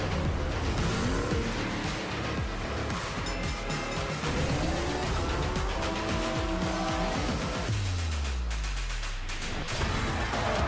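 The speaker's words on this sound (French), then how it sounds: "Jeu de bagnole!" Car engines roar and tires squeal throughout a racing video game trailer, loud and continuous, with revving, skids and a deep engine drop near the end.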